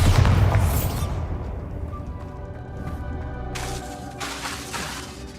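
A loud Bombarda spell explosion in Hogwarts Legacy, a heavy booming blast at the start that decays into a long rumbling tail with scattered debris crackles.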